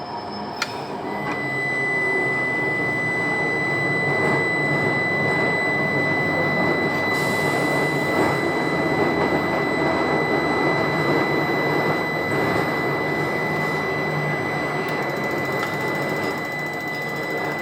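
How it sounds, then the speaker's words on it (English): Little Rock Metro streetcar on the Blue Line slowing under dynamic braking, a steady electrical whine with a sustained high tone over rumbling running noise, continuous and fairly loud inside the cab. "Sound is a dynamic brake."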